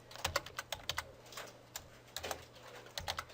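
Quick bursts of keystrokes on a computer keyboard while entering a JavaScript formula, clustered clicks with short pauses between groups, close and fairly quiet.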